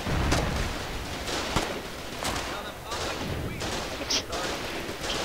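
Repeated gunfire in the online war game Foxhole, single sharp shots and bursts cracking every second or so over a loud, dense battlefield din, with voices talking beneath the shooting.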